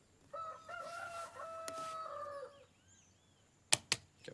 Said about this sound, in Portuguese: Como o galo. Tem que cantar todo dia nessa hora.